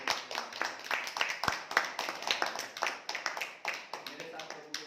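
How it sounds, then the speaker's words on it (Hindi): A church congregation claps for God in a short burst of quick, rhythmic handclaps, fairly close, with speech mixed in. "तो एक बार छोटा तालियां प्रभु के लिए।"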